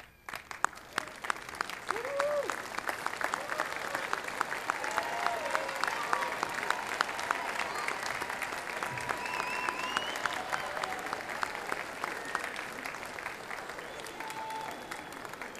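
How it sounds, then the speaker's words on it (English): Sustained applause from a large commencement audience at a county college in New Jersey, steady and fairly distant, filling the hall for about fifteen seconds with scattered voices and cheers mixed in. "join me in a round of applause to thank them for the support they gave you"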